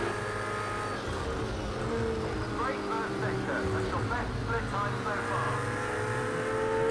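A racing car engine in the video game Project CARS 2 drones steadily at the Glen as an Acura closes in and passes, its pitch shifting with the gears, while someone talks over it throughout.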